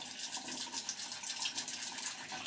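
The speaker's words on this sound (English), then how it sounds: "So I'm gonna just rinse this off right now." Running water rinses a skincare product off a face, with a soft, steady hiss and light splashing throughout, fairly faint and close.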